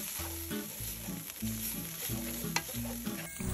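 Preserved mustard greens tossed in a hot wok with oil, ginger, coriander stems and fermented bean curd crackle steadily, while a spatula scrapes and clanks in repeated close strokes.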